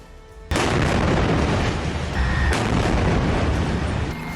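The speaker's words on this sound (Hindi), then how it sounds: "उसके ठिकानों पर विनाश लाने वाले गोले बरसाए जा रहे हैं।" Heavy tank shell explosions in the Gaza fighting around Jabaliya and Zaytoun: a sudden loud boom hits at about half a second, another blast follows mid-clip, and dense rumbling reverberation fills the whole stretch with no talk.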